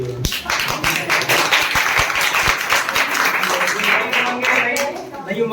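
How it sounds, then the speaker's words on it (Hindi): Applause from parents and guardians at a school parent-teacher meeting, a broad steady wash of many hands clapping that fills the whole stretch at a moderate level, with individual claps blurred together. "ताली बहुत स्लो बजाएंगे।"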